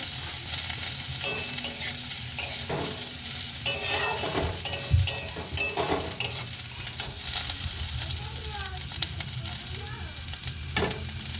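Cauliflower frying in a pan, a steady sizzle with occasional scrapes and stirring clatter, close and continuous.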